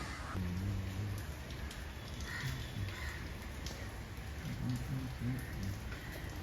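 Rain falls steadily in a soft, even patter, with faint intermittent tones drifting in the background.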